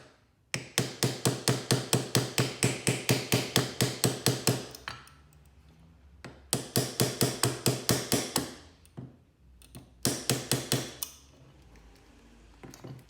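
A small hammer gently taps metal on a vintage Skilsaw 825 during a rebuild, in quick, even bursts of light strikes, three runs of about a dozen blows each with short pauses between, close and clear.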